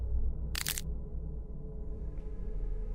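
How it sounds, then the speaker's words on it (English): A brief, sharp cracking burst from a horror video game rises once over a steady low rumble, followed later by a faint tick. "making a cracking sound as they go."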